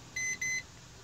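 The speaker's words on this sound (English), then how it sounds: "The light will flash orange once the 2 beeps are heard, indicating the first code has been saved." A Master Lock digital lock box gives two short, clean electronic beeps in quick succession as a code is saved, loud and close in an otherwise quiet room.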